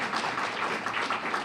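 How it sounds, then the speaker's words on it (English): Applause at a Rotary Club Tuesday luncheon in Bloomington, a short, soft burst of steady group clapping with no voices over it. "Let's applaud for Hannah."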